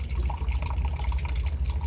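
Water rushes steadily through the coolant system of a 2001 Ford F150 during a flush, making a loud, continuous hissing gush with no breaks and no talking.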